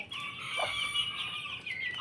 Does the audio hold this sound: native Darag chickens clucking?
yes